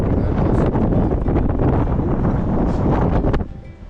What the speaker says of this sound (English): Wow, the wind is really coming up now.